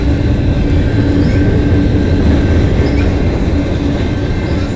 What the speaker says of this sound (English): Symbol on this train is CNA 424.